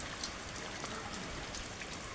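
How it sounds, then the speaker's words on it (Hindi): Heavy rain pours down in Bahraich city, a dense, constant hiss of drops striking surfaces close by, alone without voices. "आज सुबह से ही बहुत तेज़ बारिश हो रही है हमारे बहराइच शहर में।"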